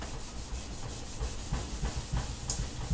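A Cooper Lux pot scrubbed by hand, giving a continuous rough rubbing and scouring noise with a faint rhythmic back-and-forth pulse, close up and with nobody talking.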